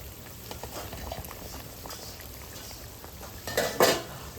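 Hilsa fish slid into a pan of oil with partly cooked eggplant, giving a steady sizzle and bubbling with a few pot and utensil clinks, louder toward the end.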